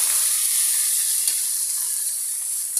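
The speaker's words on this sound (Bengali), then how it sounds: "দুই টেবিল চামচ বাটা দুই টেবিল চামচ এইভাবে ভেজে নিব" Ginger and garlic paste fries in hot oil with a steady, bright sizzle and hiss that runs without a break, close and fairly loud, with a few faint stirring taps and no voices.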